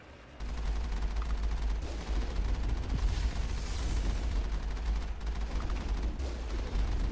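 Steady, dense gunfire at the player during Mass Effect combat against the geth, a continuous rumbling barrage with low booms underneath. It holds at a constant volume for several seconds.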